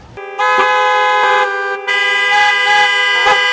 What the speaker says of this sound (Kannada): ಪ್ರತಿದಿನ ನಮ್ಮ ರಸ್ತೆಗಳಲ್ಲಿ ನಾವು ಕರ್ಕಶವಾದ ಹಾರ್ನ್ ಶಬ್ದವನ್ನು ಕೇಳುತ್ತೇವೆ